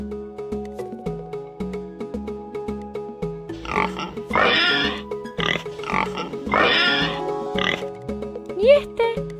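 A pig grunts and oinks in several rough bursts, mid-distance, over a bouncy background melody, with a brief squeal near the end.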